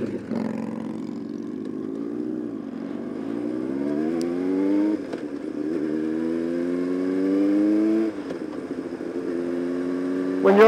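Motorcycle engine drones steadily on the road, rising in pitch through several gear changes as it accelerates, loud and close, with a brief drop between shifts.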